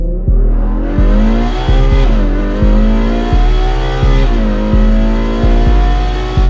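A Ferrari being driven in a GTA game on a Ukrainian server, its engine revving hard in a series of rising sweeps, each cut by a sharp gear-shift drop about every second, loud and close with no talk.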